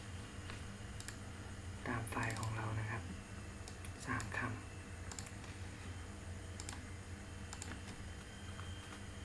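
Keys clatter on a computer keyboard as a wc command is typed, with scattered close, light clicks spread through the stretch and a person speaking briefly over two short passages.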